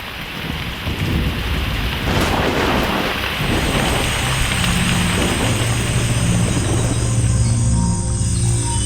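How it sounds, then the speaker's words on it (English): Heavy rain pours down in the Amazon jungle at night near a river, a loud, dense hiss with deep rolls of thunder rumbling beneath it throughout. "Here comes the rain again."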